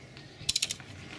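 A wrench tightening car wheel nuts in sequence, giving a quick burst of four sharp metallic ratcheting clicks close up, with quiet surroundings before and after.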